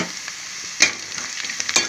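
Onions and cashews fry in a pan with a steady close sizzle, broken by a couple of sharp clinks from stirring.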